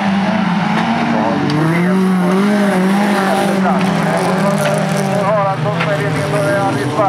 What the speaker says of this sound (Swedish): nu har han snurr på bilen